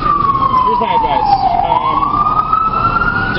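A wailing emergency siren on a New York City street, its tone sweeping down and then climbing back up, loud and continuous over steady traffic rumble.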